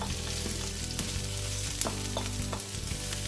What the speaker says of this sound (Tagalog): Then we can add our chopped onions.